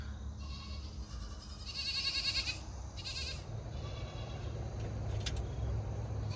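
Goats bleating on a homestead, several repeated calls at moderate distance over a steady low background hum, with no talking.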